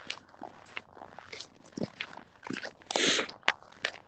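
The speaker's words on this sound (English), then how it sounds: "Always like the squeaky, crunchy sound of the snow." Footsteps crunching and squeaking on snow, a series of close, uneven crunches with one louder scraping step near the end.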